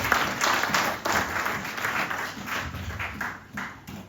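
Church congregation applauding at a Sunday worship service, steady dense clapping filling the whole stretch at moderate loudness, with no voices above it.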